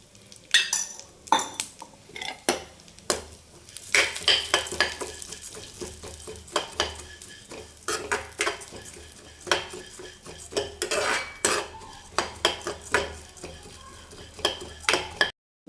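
Sunflower seeds roasting in ghee while a spoon stirs and scrapes the pan, giving repeated sharp metallic clinks over a light sizzle, close up, with no talking.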